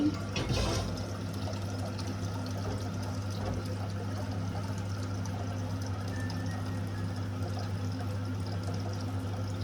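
Water poured into leftover manti dumplings in a home kitchen, a steady close pouring sound that begins with a brief splash and continues evenly under a constant low hum.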